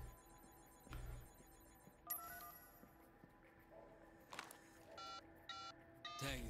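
Phone dialing tones in the video game Sleeping Dogs, a handful of short electronic beeps in quick bursts alongside ringing and chiming game sounds, fairly quiet, with no talking.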